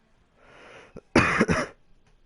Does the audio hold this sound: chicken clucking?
no